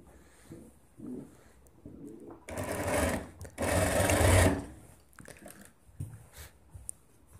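A sewing machine stitches a sleeve onto a kameez in two sustained close bursts of rapid mechanical whirring. Softer handling noises come in between the bursts.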